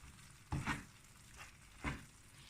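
Ful mudammas with pepper and salt mixed in a pot, a few soft scraping stirs over a faint sizzle, quiet and close.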